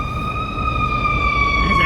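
An ambulance siren wails with steady high tones over a rumbling Chicago street background, sounding fairly close and continuous throughout.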